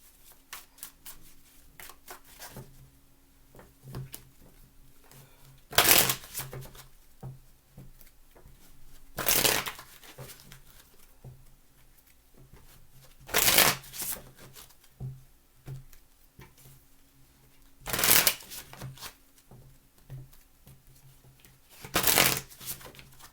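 A deck of cards is shuffled again and again, with five loud riffling bursts spaced a few seconds apart, quieter handling and tapping of cards between them, no talking.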